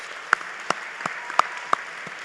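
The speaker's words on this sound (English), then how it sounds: "Let's have a round of applause for them as well, please." At a university commencement ceremony, a few scattered hand claps ring out about six sharp, distinct smacks spread across a couple of seconds in a quiet, roomy hall.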